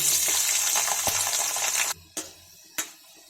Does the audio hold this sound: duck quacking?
no